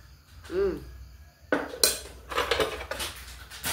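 A metal spoon scrapes and clinks against a pan while reheating a simple meal of pecel chili sauce, noodles, tempeh and serondeng: a few irregular knocks and scraping strokes, fairly close, with faint background voices.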